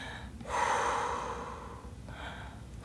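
One long, deep audible inhale starts about half a second in and is followed by a softer exhale, breathed close and clearly in a quiet room without speech.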